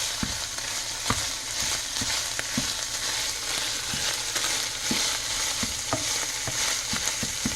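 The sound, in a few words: stirring bulgogi sauce into sizzling beef in a pan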